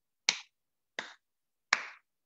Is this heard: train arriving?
no